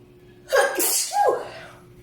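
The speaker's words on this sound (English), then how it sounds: "Let's call that sneeze a confirmation." A single loud, close sneeze with a quick sharp intake of breath just before it, then quiet.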